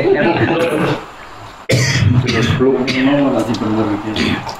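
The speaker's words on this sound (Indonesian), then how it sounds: "Aku sering batuk." A couple of sharp, close coughs break up a man's ongoing speech during a religious lecture, followed by more talking.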